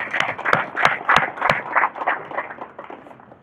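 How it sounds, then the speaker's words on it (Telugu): An audience at a Telugu spiritual discourse on Lord Rama claps together in a steady, rhythmic beat of sharp, close hand claps that gradually softens and thins out. "ఒకసారి మనకు మనమే చప్పట్లు కొట్టుకుందాం."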